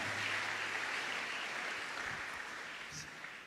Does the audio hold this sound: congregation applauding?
yes